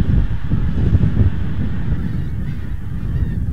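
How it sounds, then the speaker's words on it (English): Thousands of pink-footed geese honk together at daybreak in Norfolk in a dense, low chorus, with steady wind rumble underneath. "the pink-footed goose spectacular, where literally thousands of these geese roost overnight"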